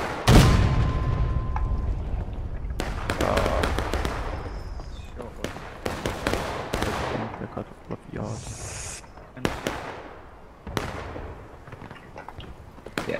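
Artillery cannons firing in the Civil War game War of Rights, a series of sharp, booming blasts spaced several seconds apart amid battlefield noise, with players talking throughout.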